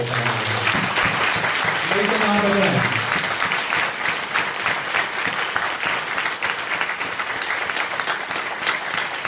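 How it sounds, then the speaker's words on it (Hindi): Loud, sustained applause fills a church congregation hall, dense clapping continuing steadily throughout, with a voice briefly heard over the start. "जोर से प्रभु के लिए ताली बजाएंगे।"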